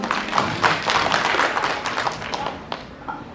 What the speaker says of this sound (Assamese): আৰু জ্যোতিপ্ৰসাদ দাইৰ বাবে মই এটা ডাঙৰ হাত চাপৰি বিচাৰিছোঁ